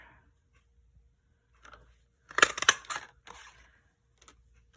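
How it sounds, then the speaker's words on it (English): A Taylor Tag paper punch cuts out a happy birthday sentiment for a double flap fun fold card, giving a short cluster of crisp crunching clicks and snaps in a quiet room, with a few faint taps before and after. "I'm going to take my Taylor Tag punch and punch out the happy birthday"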